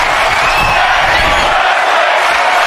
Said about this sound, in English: And the crowd is loving the action